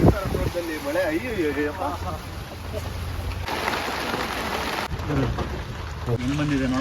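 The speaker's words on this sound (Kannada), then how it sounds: "ಮಳೆ ಅಯ್ಯೋ" Rain falls outdoors on a farm during a cooking session, a steady hiss of drops with a possible distant rumble, heard under people talking and shifting noises throughout.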